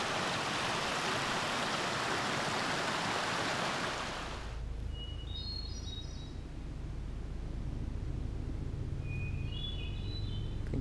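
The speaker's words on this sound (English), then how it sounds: "I think that's the same kind of bird at the beginning of my other video." A bird sings by a river on the Appalachian Trail in Connecticut. Loud rushing water fills the first few seconds, then falls to a quieter flow with two short, faint chirping phrases.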